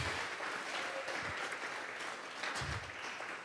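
Church congregation applauding during a Spanish-language service, a dense sustained wash of clapping from many hands, fairly distant and even, tapering slightly at the end.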